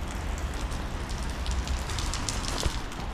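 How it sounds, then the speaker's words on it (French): Steady rain patters densely on a surface, a continuous hiss of drops with faint scattered ticks, no voices. "Un peu de vent, un peu de pluie, un peu de tout."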